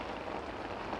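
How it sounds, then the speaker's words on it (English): Heavy rain pours steadily at a carp fishing spot on a wet, windy day, a dense continuous hiss of drops drumming on surfaces, loud and unbroken throughout. "It's been like this all day now. This has been my day. Rainy, wet and windy."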